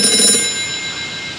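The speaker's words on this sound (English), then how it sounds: "That phone is about to ring." An old telephone bell rings in the game Gray Matter, a bright, metallic trill that sounds loud at first and then rings on steadily.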